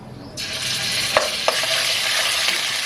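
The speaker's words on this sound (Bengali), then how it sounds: "এইবার এই তেলের মধ্যে আমি আদা বাটাটা দিয়ে দেবো" Ginger paste drops into hot oil with dried red chilli and nigella seeds, bursting into a loud, sudden sizzle that continues steadily, with a couple of sharp spoon clinks against the pan.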